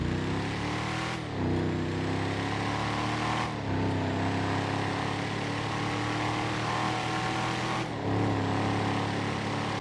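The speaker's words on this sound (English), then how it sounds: "I love the sound of the Slamvan," The Slamvan's car engine in GTA Online rumbles loudly and continuously at close range, with a few dips and surges as it revs and shifts, and no talking over it.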